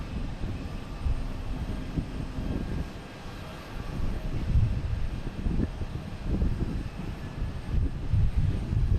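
A JetBlue Airbus A220 jet takes off from Boston Logan bound for San Juan, a low rumbling engine roar with pulsing swells over wind buffeting, heard alone without talk.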